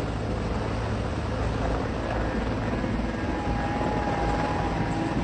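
A CH-53 Super Stallion heavy-lift military helicopter produces a loud, continuous engine and rotor roar that holds steady throughout without pause.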